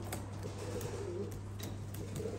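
White Kerkük-style show pigeons coo in a loft, low throaty murmurs running steadily under a constant hum and background clatter, moderately near.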